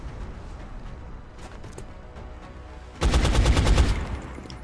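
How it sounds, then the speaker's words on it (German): A burst of rapid gunfire in the video game X-COM: Enemy Unknown erupts partway through, loud and dense, after several seconds of quieter background noise. "Schuss war nicht im Ziel"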